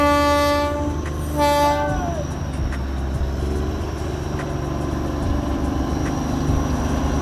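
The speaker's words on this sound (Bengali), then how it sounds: "ওই যে সামনে দিয়ে আসছে ট্রেনটি" The Darjeeling toy train sounds its horn twice in long loud blasts at the Batasia Loop, then rumbles and clatters steadily past nearby on a rainy monsoon day.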